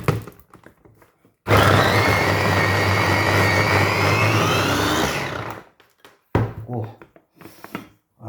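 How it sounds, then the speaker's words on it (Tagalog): An electric grinder chops onion for meatballs, a loud whirring motor that runs steadily for about four seconds and then cuts off, with a person talking before and after. "Gagrind din natin ito. Sama-sama lahat."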